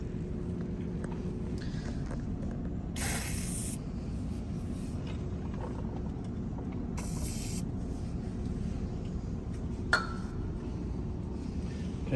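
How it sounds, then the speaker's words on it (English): Penetrating oil is sprayed from a can into threaded holes on a Toyota Tundra's front brake assembly, with two short hissing bursts a few seconds apart over a steady low background hum. "what I'm going to do is put penetrating oil into these holes to try to get it to loosen"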